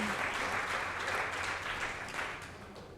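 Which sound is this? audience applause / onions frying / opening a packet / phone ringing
audience applause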